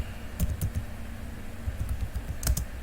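Someone types on a computer keyboard while creating a MariaDB database, tapping a few scattered, uneven keystrokes up close, with a small cluster near the end.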